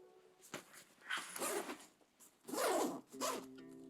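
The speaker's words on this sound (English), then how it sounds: "let's go ahead and zip this up" A zipper runs closed on a tomtoc Urban EX T77 backpack in several short, close pulls separated by brief pauses, crisp and loud with no talking.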